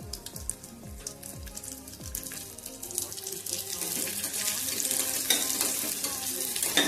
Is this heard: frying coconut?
yes